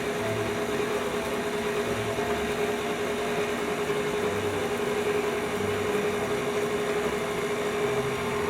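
An electric mixer on low speed mixing flour for carrot cake, a steady motor hum with an even whirring tone, close and unbroken throughout with no talk.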